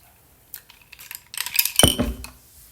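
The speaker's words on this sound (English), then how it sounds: "I have to stir really slowly because I filled it till it almost overflowed" Ice and a spoon clink against a nearly overflowing glass of iced coffee during slow stirring, giving a few light, close taps before a louder cluster of clinks and a brief knock.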